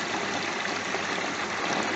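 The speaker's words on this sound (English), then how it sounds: "it causes a torrent of water over this" A homemade pond filter with water pushed through sponges and pouring over the top, a constant close rushing trickle and splash that stays even and moderately loud, with no voices.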